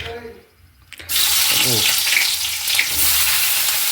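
Sliced onions hit hot oil in a pan for an okra curry, bursting into a loud, steady sizzle after a brief quiet moment, with a voice briefly audible in the background.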